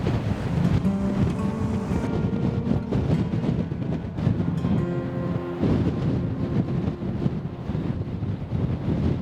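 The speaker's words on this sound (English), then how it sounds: "it's blowing a gale" A gale blows hard on the Pembrokeshire coast at Strumble Head, a loud, unbroken wind roar battering the microphone with surf-like rushing, and no one speaking.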